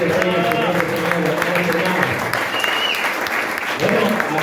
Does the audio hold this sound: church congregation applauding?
yes